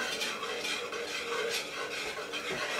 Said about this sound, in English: I'm feeling a consistent resistance as I pull the whisk around.